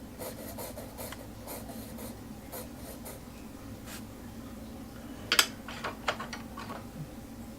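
A soft 2B graphite pencil draws on paper, giving repeated light scratchy strokes in an irregular rhythm, close and quiet, with a few sharper taps near the end.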